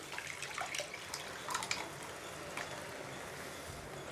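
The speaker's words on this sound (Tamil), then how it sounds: "நம்ம தண்ணி சேர்த்து ஊற்றிடலாம்" Quiet splashing and trickling of water poured into a pan while making paneer butter masala, with a few brighter drips and splashes, close by and without speech.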